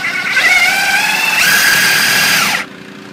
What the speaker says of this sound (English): We'll take the hanger bolt, drop it in, and I'm using an impact driver.